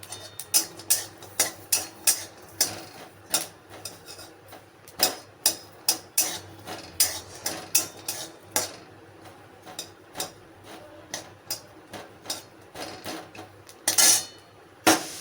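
A spatula stirs and scrapes in a pan while potol dorma cooks with garlic pieces. The strokes are steady, rhythmic and close, with brief metallic knocks and a louder rattle near the end.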